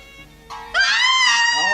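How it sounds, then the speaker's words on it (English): A woman screams in a horror film scene, a sustained high wail that jumps in sharply after a brief lower sound and holds loud to the end. "Scream was in the last scene."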